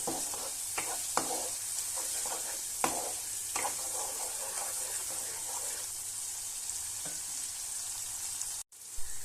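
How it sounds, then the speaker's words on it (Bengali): Kashmiri chili powder is stirred into a vegetarian cauliflower curry in a pan, a steady sizzle broken by several sharp spoon scrapes and clinks, ending in a brief silence and a final knock. "এবার লঙ্কার গুঁড়োটাও সবকিছুর সাথে ভালো করে মিশিয়ে নেব"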